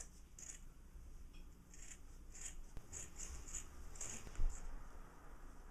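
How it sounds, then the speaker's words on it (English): Scissors snipping through the fabric of a red coat along dressmaker's chalk marks, giving a run of soft, regular crisp cuts at close range, fairly quiet and steady with no talking. "I'm just cutting along the marks that I made with the dressmaker's chalk."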